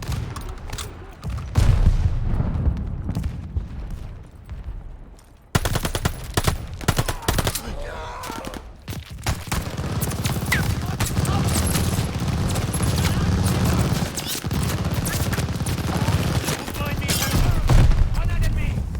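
Machine gun fire in the World War II shooter Call of Duty: Vanguard, sustained rapid bursts and scattered explosions in a loud battle, with soldiers shouting over the gunfire.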